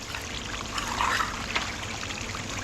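Water trickles and pours steadily through a small sluice carrying dirty copper scrap, a continuous close wash with a slightly stronger gush midway and no talking.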